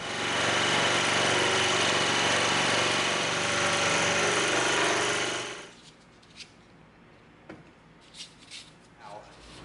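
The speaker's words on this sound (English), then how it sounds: "We have our scroll saw table slightly tilted at the angle we want so that we can cut our slight bevel cut around our barrel" A scroll saw with its table tilted cuts a bevel through EVA foam, buzzing loud and steady for about six seconds before stopping, followed by quiet handling taps and clicks.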